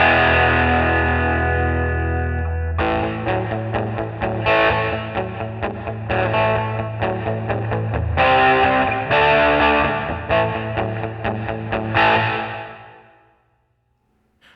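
Distorted electric guitar played through a Nux MG-300 amp modeler with the combo front cabinet engaged, sounding as loud, continuous chords and riffs with effects, ringing out and fading to silence near the end.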